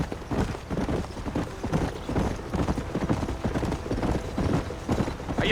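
Horse hooves gallop in a rapid, steady clip-clop rhythm in the video game Red Dead Redemption, loud and close throughout with no talk over them.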